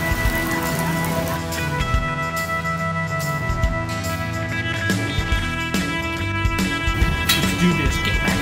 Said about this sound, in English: The rain hit us real hard now.